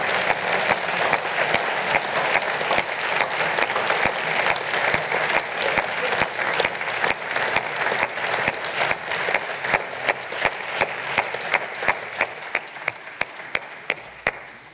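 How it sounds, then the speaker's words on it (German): Sustained audience applause fills a lecture hall after a talk on nuclear fusion research, dense and steady clapping throughout that thins slightly toward the end. "Der Beifall spricht für sich."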